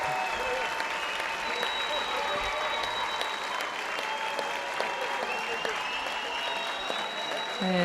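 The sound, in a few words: judo arena crowd applauding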